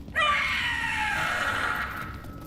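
A Howler creature from Dragon Age: The Veilguard lets out a single loud, shrill, wavering scream that starts abruptly and slowly fades over about two seconds.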